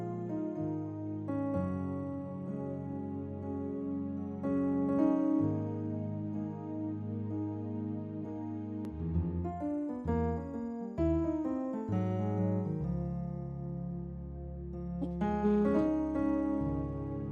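A jazz-feel improvised lick in 4/4 over turnaround passing chords, played with no backing loop; sustained low chords ring under quicker melodic notes, moderately quiet and steady with no talking.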